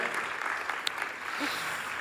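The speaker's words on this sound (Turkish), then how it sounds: "Kocaman alkışlar ve başarılar jürimize" Applause from the audience at the 41st Istanbul Film Festival opening ceremony greets the festival jury, a steady, moderately quiet patter of many hands that continues throughout.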